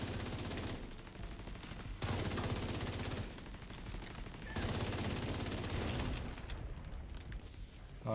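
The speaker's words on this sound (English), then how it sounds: "You're fucking shooting me from there." Automatic gunfire rattles in The Division 2, with loud sustained bursts of rapid shots broken by brief pauses, close and dense throughout.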